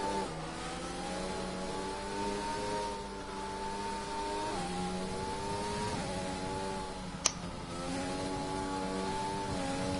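A race car idles behind the safety car in a racing game, its engine note climbing and dropping as the driver runs up and down through the gears, steady and close, with one sharp click partway through.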